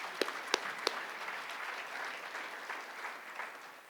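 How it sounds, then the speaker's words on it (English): A seated crowd applauds at the UNLV Athletics Hall of Fame ceremony, the clapping soft and distant, holding an even patter after a few sharper claps at the start. "let's give all of them a round of applause again as we get ready for the induction ceremony"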